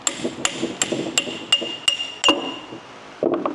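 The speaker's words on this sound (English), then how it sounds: "And then all you do is just hammer them out." Sharp metallic hammer blows ring out about once every third of a second, six or seven strikes in a steady rhythm, close and loud, then a clank, as king pin bushings are hammered out of a Freightliner Cascadia truck.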